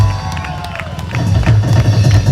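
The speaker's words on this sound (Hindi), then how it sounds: "एक बार ताली हो जाए" Audience at a Christian gathering clapping together, a dense, loud, continuous patter of many hands that swells toward the end, with crowd noise underneath.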